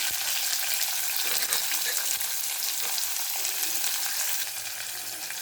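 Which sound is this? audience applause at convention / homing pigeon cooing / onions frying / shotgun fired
onions frying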